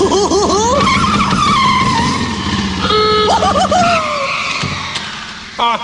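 Tires squeal loudly as a taxi car skids and speeds away in a theme-park attraction sound effect, the long screeching slide rising and falling for several seconds before trailing off, with a final short squeal at the end.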